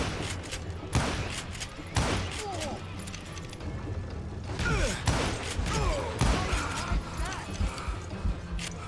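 Gunfire from the Western shooter video game Call of Juarez Gunslinger, several sharp shots about a second apart mixed with game voices and effects.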